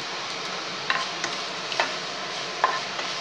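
Spices, pepper, cumin and asafoetida frying in hot oil as a tempering for pongal, giving a soft steady sizzle with a few faint sharp ticks and pops.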